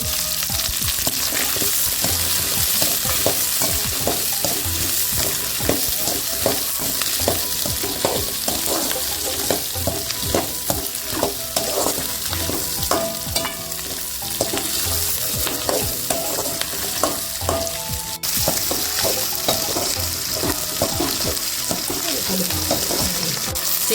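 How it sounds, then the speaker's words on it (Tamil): Green chillies and curry leaves sauté in hot oil in a pan for a goat trotter curry, giving a continuous close sizzle broken by frequent rhythmic scrapes and clacks of stirring. "மிளகாயும் கருவேப்பிலையும் போட்டுக்கலாம் கொஞ்சம் வதங்கினதுக்கப்புறம் நல்லா வதக்கிட்டு"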